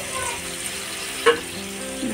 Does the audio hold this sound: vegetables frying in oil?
yes